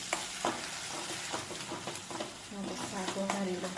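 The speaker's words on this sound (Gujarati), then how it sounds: "ચમચો ફેરવી દઉં." A spoon stirs tomato gravy sizzling in a pan on the stove, giving soft scraping strokes and a low crackle under quiet background noise.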